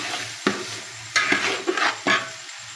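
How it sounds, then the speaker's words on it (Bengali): Rice for beef biryani frying and being stirred in a pot, with several scraping stirs and bursts of sizzle against a low background hiss, close and moderately loud, no voices. "চালটা এভাবে সুন্দর করে ভেজে নিতে হবে"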